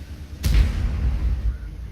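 A Tiger tank's cannon shot striking an IS-6 in a tank video game: one sudden sharp boom followed by a low rumbling decay lasting about a second.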